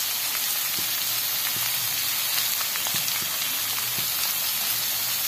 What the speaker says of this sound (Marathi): लवकर फ्राय व्हावा म्हणून मी आत्ता त्याच्यात मीठ घालते.